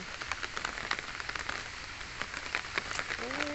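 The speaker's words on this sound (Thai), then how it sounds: "ฝนก็ตกอยู่พาเพื่อนชมสวนตอนฝนตก" Rain falls on a small home garden: a steady close patter of drops on leaves and surfaces fills the whole stretch, with a brief faint voice near the end.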